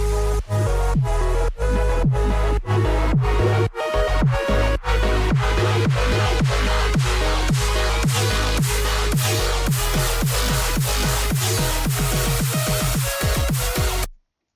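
Glitch hop build-up produced in FL Studio: punchy chopped synth chords and leads over heavy basses, hits accelerating into a rapid stuttering roll before cutting to silence at the end.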